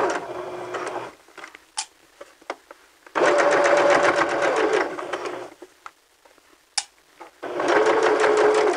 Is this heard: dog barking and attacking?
no